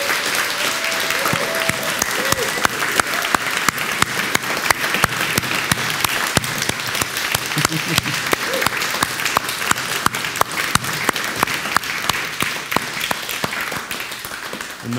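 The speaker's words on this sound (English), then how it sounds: "Big round of applause." A church congregation at a Baptist service bursts into a sustained round of applause after a baptism, dense steady clapping filling the room for the whole stretch with no voices standing out.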